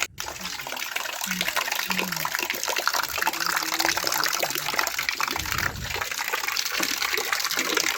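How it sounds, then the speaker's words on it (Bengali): Water gushes steadily from a tap into a bucket as it fills, a continuous broadband splashing rush at close range that holds through the whole stretch. "এই যে এই বালতিটা ভর্তি হয়ে এসছে, এটা ভর্তি হয়ে গেলে এটা নামিয়ে নিয়ে আমি আর একটা বালতি বসিয়ে দেব।"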